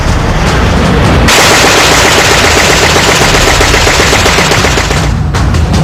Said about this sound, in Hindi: आसमान में उड़ते हुए F-35 दनादन गोलियां दागता है।